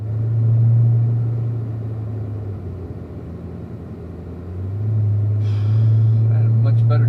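A Chevrolet Corvette at a driving school rolls through a cool-down lap in 4th gear, its low steady engine drone rising and dipping in loudness, with people talking over it near the end.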